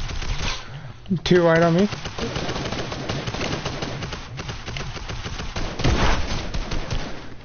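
Gunfire from a pistol-style weapon in a shooter video game, a few scattered sharp cracks mixed into busy game sound and overlapping voices of players talking.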